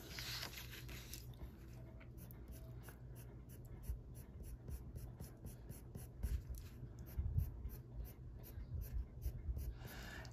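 A terracotta colored pencil in a pencil extender scratches across a greyscale coloring page in steady, rhythmic close-up strokes, each one brushy and papery, with no talking.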